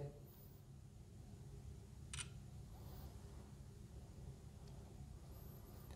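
A Vivo Y1s phone's front camera fires its shutter once, giving a single short, crisp click over a quiet room background.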